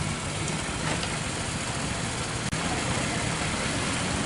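A Honda Vario scooter, freshly serviced with a new vacuum part and a cleaned carburetor, idles with a steady low hum nearby, broken by one brief click.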